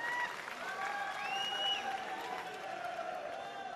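Steady clapping and crowd noise from an audience at a Sadbhavana Mission political speech by Navjot Singh Sidhu, with voices mixed into the continuous applause throughout.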